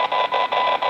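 A Wouxun handheld radio transceiver picking up interference on 434 MHz gives a steady buzzing noise, chopped into regular bursts with brief gaps, loud and close with no voices.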